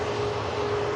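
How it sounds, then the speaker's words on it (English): A Ryanair Boeing 737 Max 8 airliner taxiing at Manchester Airport in wet weather, with a steady broadband engine rumble and a constant tonal whine heard from a moderate distance, unbroken and without talk. "Ryanair just lining up for Copenhagen."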